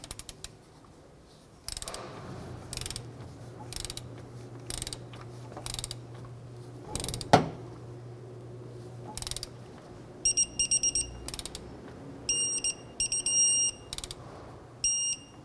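A torque wrench with a 21mm socket tightens the front outer tie rod nut on a 2011-2017 Honda Odyssey to 44 foot-pounds, giving close, repeated ratchet clicks in short groups, with brief high tones among the later strokes and no talking.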